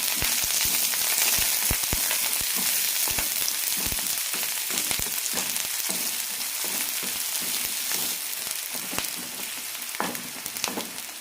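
Sliced onions with curry leaves sizzle in hot oil in a pan after mustard seeds have popped, a loud steady frying hiss broken by scattered crackles and stirring scrapes, with no talking.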